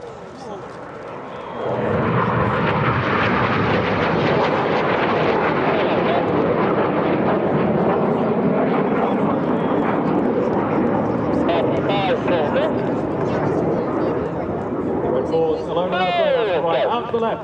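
RAF Red Arrows jets fly an air display over the crowd, a loud, steady roar of jet engines filling the whole stretch after a quieter start, with a commentator talking over the top.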